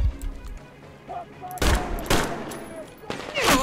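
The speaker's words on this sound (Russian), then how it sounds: "Блять, откуда стрельба идет?" Bursts of automatic gunfire in the shooter game Metro Exodus, with a few loud volleys cutting in among quieter stretches, fairly close and sharp.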